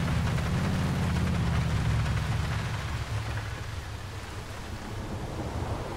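Heavy rain and a thunderstorm rumble from the GTA 4 video game, a steady loud hiss of rainfall over deep low rolling thunder that fades after a few seconds, with no talking.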